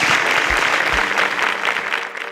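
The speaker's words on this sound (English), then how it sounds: "A round of applause for our contestants." A studio audience at a televised contest applauds its contestants, dense and loud clapping sustained throughout, close and full, with faint crowd noise and no speech.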